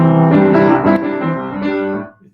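A piano plays a quick, busy melody with several overlapping notes, loud and close, ringing out briefly before fading at the end.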